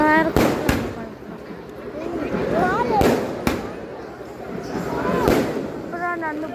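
Sharp firecracker bangs pop at irregular intervals over a crowd's chatter and voices at a Tamil temple festival.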